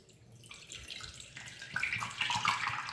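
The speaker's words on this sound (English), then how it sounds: "just get your lemon juice open and start pouring it on there" Lemon juice poured from a bottle into a container fitted over a shower head: a steady liquid pour that builds and grows brighter, splashing and trickling close by with no talk.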